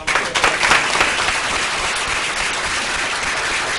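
A board meeting audience applauds to honor students from the academic games, with dense, steady clapping that swells loudly in the first second and then holds at an even level without talk.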